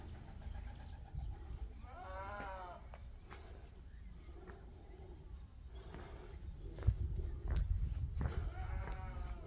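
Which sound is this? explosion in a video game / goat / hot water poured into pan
goat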